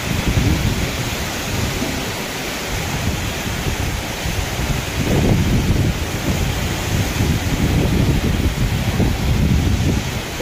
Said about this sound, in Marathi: कसलं वार आहे.